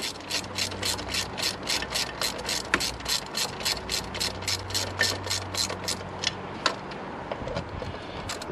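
Rapid, steady clicking of a ratchet snugging up the alternator bolts on a Mini One/Cooper R50 1.4–1.6 litre, a long continuous run of crisp pawl ticks close up, with a brief pause midway and no talking.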